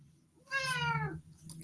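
A pet cat gives a single clear, fairly loud meow with a rising then falling drawn-out tone, close to the listener, in an otherwise quiet indoor room.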